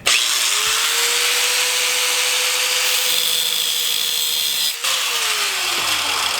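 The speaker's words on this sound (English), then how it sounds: "I gotta get in here and cut this bolt with this angle grinder" An angle grinder cuts through a bolt on a turbo Honda Civic, giving a loud, continuous high-pitched whine that holds steady for several seconds and then drops in pitch as the cut eases off near the end.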